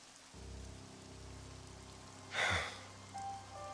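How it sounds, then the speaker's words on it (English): Steady rain falls in Xenoblade Chronicles 3, a soft even wash of drops under a low drone of game music, with a brief louder splash or swell of rain partway through. "It's raining."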